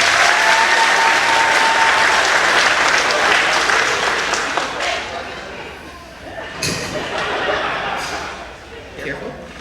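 A circus audience in Branson, Missouri breaks into loud, sustained applause that slowly fades, with scattered sharp claps and a voice talking over it near the end.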